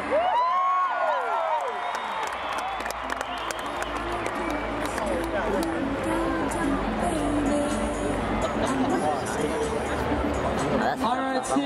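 A big crowd at the Sydney Royal Easter Show cheers and applauds steadily for nearly twelve seconds, a dense wash of claps, shouts and chatter that stays loud throughout, with a host's voice mixed in.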